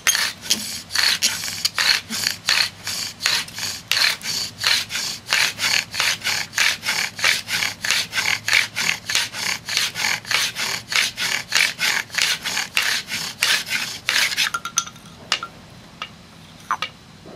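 A wooden bow drill spindle rubs back and forth in a wooden socket with a fast, regular rasping stroke rhythm, close and loud for about fifteen seconds before stopping, with no talk over it.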